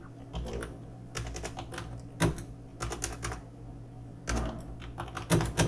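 Fingers type on a computer keyboard in quiet bursts of key clicks separated by short pauses, with no talking.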